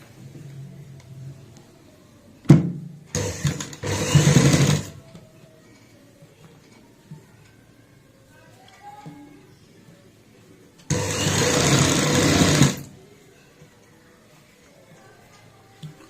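A sewing machine stitches fabric in two loud whirring runs, a short burst lasting about two seconds and a longer steady run later, with quiet gaps of handling noise in between.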